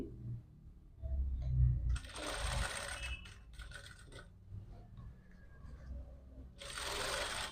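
A sewing machine stitches a jacket in short bursts, whirring runs separated by pauses and small handling clicks, close and fairly quiet.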